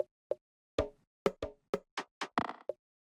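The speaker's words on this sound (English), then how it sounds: "As you can see, a bunch of random percussion shots." Nine short percussion one-shots from a minimal house sample pack play one after another with gaps, dry knocks, plops and snappy hits ending in a quick rattling cluster, heard alone without talk.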